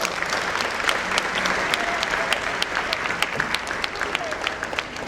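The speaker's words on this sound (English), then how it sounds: "Please welcome her with a huge round of applause" A school hall audience at The Orbis School, Mundhwa, applauds the chief guest with steady, close clapping, sharp individual claps standing out, while a voice talks faintly underneath.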